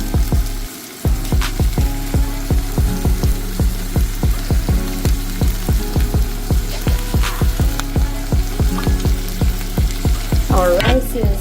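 Cut-up vegetables for veggie fajita bowls fry in a hot pan, giving a loud, steady close sizzle with a regular ticking, popping rhythm running throughout.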